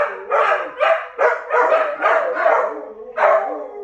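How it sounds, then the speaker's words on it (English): Dogs bark at honking cars of a passing car parade in a rapid series of loud, close yips and woofs, roughly one every half second, with a short pause before a final bark. "the dogs were freaking out because the first cars were honking"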